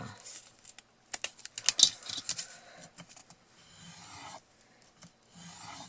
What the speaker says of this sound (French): on peut le faire aussi avec le plioir